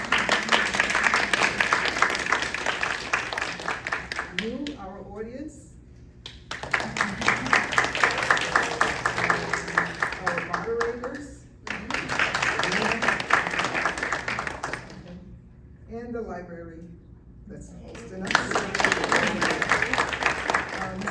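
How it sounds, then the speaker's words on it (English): Applause from an audience at a library-hosted event on mental health, bursts of dense clapping that alternate with short stretches of a person speaking over a steady background hum. "a round of applause for our presenters"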